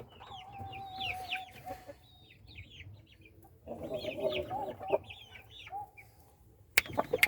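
Fighting-breed combatente chickens cluck and chirp in repeated short bursts, with a rooster-like call and a louder stretch of fowl chatter midway, all fairly close in a quiet farmyard setting, ending with a couple of sharp knocks.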